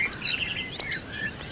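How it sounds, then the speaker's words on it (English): Synthetic outdoor ambience of distant songbirds, with several high chirps and trilling calls scattered over a soft airy background, no voices present. "Distant bird songs."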